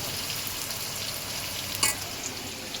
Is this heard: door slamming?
no